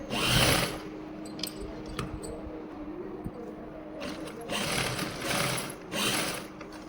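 A sewing machine stitches a pocket seam on a salwar in short runs, several bursts of whirring separated by quieter pauses, with faint mechanical clicks between.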